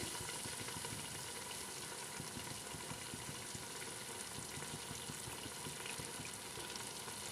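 Tender mutton pieces for Peshawari namkeen gosht frying in a pan, a steady close sizzle with occasional stirring scrapes and crackles throughout, no talking.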